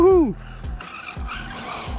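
An off-road RC buggy's electric motor whines as it drives and skids over dirt, with repeated low scrabbling bursts from the tyres. A person's excited whooping voice rises and falls over the opening half-second.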